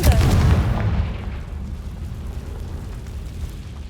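A Confringo blasting spell explodes in the video game Hogwarts Legacy with one loud, close boom at the very start that fades into a long, low rumble and hiss, with no talking.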